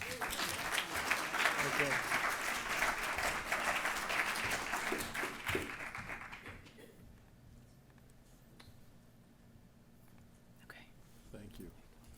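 A lecture audience at a New Canaan Library talk applauds warmly for several seconds, steady clapping that fades out, followed by quiet room tone and a brief spoken word.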